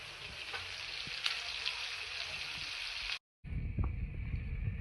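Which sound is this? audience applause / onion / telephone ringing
onion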